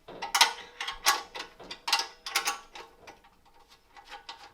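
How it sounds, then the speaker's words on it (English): A 14mm spanner working bolts loose on a Hyundai HYFT60SP petrol grass trimmer, a close series of quick metallic ratcheting clicks and rattles in short bursts that taper off, with no voices. "you'll see 2 bolts here, which I'm going to remove. I need a spanner for that"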